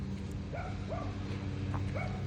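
Dogs at an animal rescue in Jasper, Texas give several short yips and barks at a close to moderate distance, rising and falling in pitch over a steady low hum, with no talk.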